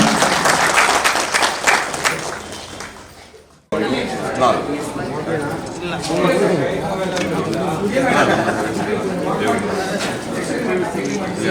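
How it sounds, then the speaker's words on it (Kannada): A crowd at a free health camp in Ballari claps loudly. The dense applause cuts off abruptly partway through, then resumes at a similar level, mixed with chatter. "ಜೋರಾದ ಚಪ್ಪಾಳೆ ಮೂಲಕ"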